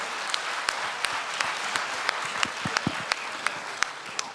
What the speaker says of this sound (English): Hey, round of applause for Helen, please.